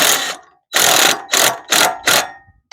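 A ratchet wrench clicks in five quick bursts as it snugs bolts on a RuggedMade four-way wedge fitted to a YardMax log splitter, each pull a crisp, close, rapid pawl rattle separated by short pauses.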